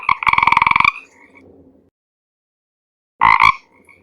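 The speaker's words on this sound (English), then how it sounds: "Beautiful frog." A frog gives two loud, close, rattling croaks, the first long and buzzy, the second shorter after about two seconds of silence.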